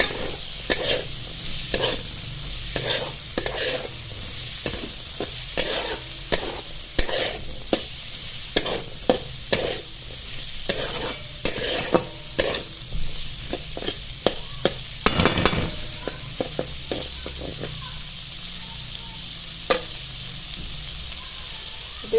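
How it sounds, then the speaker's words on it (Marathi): Flat beans coated in chilli masala are stirred in an oiled frying pan: a continuous sizzle broken by a long run of sharp, rhythmic spatula scrapes and clacks against the pan, close and fairly loud, without speech. "मिरची मसाला हा लागला पाहिजे शेंगांना अशा पद्धतीने हलवून घ्यायचे"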